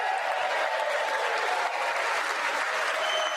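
Sustained, dense applause fills a large chamber as an audience claps during a State of the Union address, steady and loud throughout with no break.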